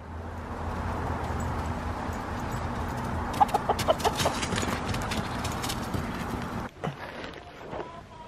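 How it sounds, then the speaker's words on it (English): Chickens clucking in a coop at feeding time, with steady soft clucking and several short sharp peeps and knocks close by, with no talk. "You ready to go out, feed the chickens?"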